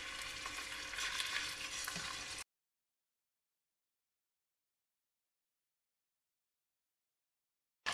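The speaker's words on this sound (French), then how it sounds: "on va faire réchauffer l'huile et on va mettre les morceaux d'agneau" Lamb pieces fry in hot oil in a casserole with a busy, close sizzle for about two seconds, then near silence for most of the rest.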